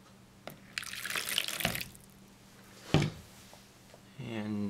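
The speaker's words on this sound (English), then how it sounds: "it's one of your bowls, let's fill it with 1/2 cup of water." Water poured from a measuring cup into a bowl while making homemade slime, a short splashing pour in the middle with a few clunks of the cup, followed by a voice speaking at the end.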